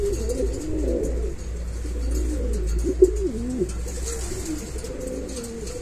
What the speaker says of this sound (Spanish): este pichón de beleño se lo voy a regalar yo, Omar.